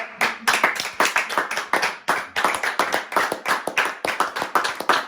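A church congregation claps loudly and steadily at a worship service, a dense mix of many hands close by with only brief gaps.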